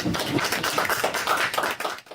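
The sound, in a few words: applause for scholarship awardees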